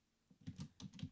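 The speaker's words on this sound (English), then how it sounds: "I'm sorry about the keyboard noise, it's very loud" A few quick, close keystrokes tap on a computer keyboard in a short, uneven burst, fairly faint, with no voices.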